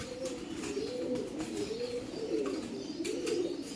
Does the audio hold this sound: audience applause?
no